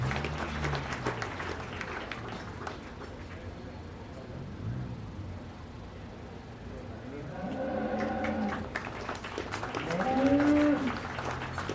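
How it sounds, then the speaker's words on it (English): Crowd at a county fair beef show gives a round of applause, steady clapping mixed with an announcer's voice and livestock-barn background, swelling louder toward the end. "let's give these kids a big round of applause"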